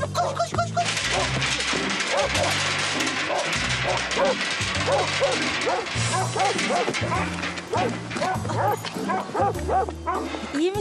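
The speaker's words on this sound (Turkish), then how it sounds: "İki köpek sesi duydum sanki ama." Several dogs bark and yip loudly and close in a chaotic rush, with whimpers, crashes and overlapping people shouting, in a tense television drama scene.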